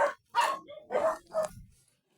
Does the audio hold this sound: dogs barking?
yes